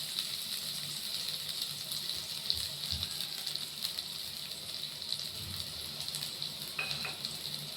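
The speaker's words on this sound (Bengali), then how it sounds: "আলু আর রসুন কুচিটা একটু ভেজে নেব।" Potatoes and chopped garlic fry in hot oil in a pan with a steady, close sizzle that lasts throughout, joined by a few soft stirring scrapes.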